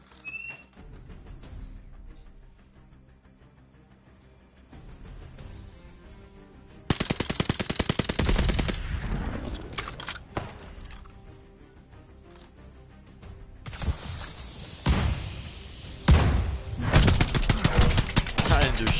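A DP27 light machine gun in Call of Duty: Vanguard fires in loud, rapid bursts. After a quieter stretch the long sustained volleys set in and keep going, with short pauses between them, while a player talks now and then.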